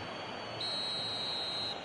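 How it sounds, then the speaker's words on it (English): A referee's whistle in a PS4 football video game, one steady shrill blast of about a second over constant stadium crowd noise. "the whistle's gone, presumably for offside"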